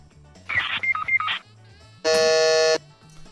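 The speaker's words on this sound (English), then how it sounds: "Getting knocked out in Fortnite." Getting knocked out in the video game Fortnite: a short run of electronic chirping tones followed by a sustained loud buzzing tone, over quiet background music.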